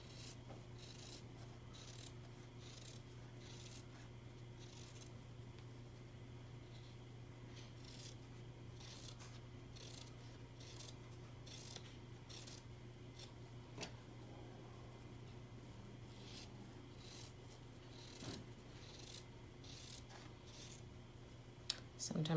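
Scissors snipping fabric seed shapes for a quilted table runner, a quiet series of short irregular cuts and rustles over a low steady hum.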